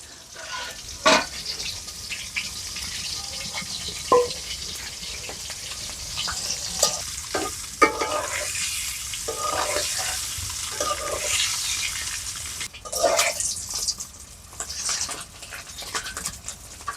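Eggs fry in a pan, giving a steady hissing sizzle through the whole stretch while a dog barks and scattered knocks and movement sounds come and go nearby.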